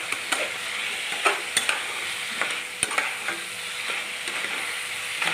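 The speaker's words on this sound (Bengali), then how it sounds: "এটা দিয়েও ভালো বেশি অনেকক্ষণ ধরে কষবো, যতক্ষণ না তেল ছাড়ে" Chicken with turmeric and chilli powder sautés in oil with a steady, close hiss of frying, overlaid by frequent sharp scrapes and taps of a spoon stirring the pan.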